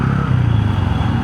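Honda CB 125 Hornet motorcycle ridden through city traffic, its small engine producing a steady low drone that stays close and loud, with no speech over it.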